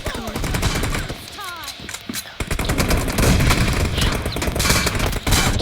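Video game gunfire crackles in repeated bursts and rapid automatic volleys, loud and close, with brief gaps between exchanges and a faint voice underneath.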